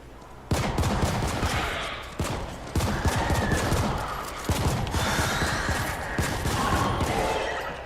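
Sustained automatic gunfire in the video game The Ascent, loud and close, rattling in near-continuous bursts broken by brief pauses, with no voices.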